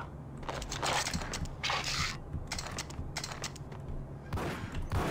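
A secret door mechanism grinds and clatters open in a video game, a rapid rattling, ratchet-like sequence of mechanical clicks and knocks at moderate loudness, with no talking.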